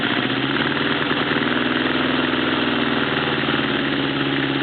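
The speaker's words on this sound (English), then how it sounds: "Pretty sure they're all running. All cylinders are running." A Honda CB650 motorcycle engine idles right after a carburetor clean, a steady close rumble with even, continuous firing pulses and no talking over it.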